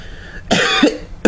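A cartoon character coughs in a single loud, rough burst, followed by a short second cough, with no speech around it.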